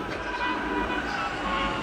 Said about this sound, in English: it looks like a train's coming right away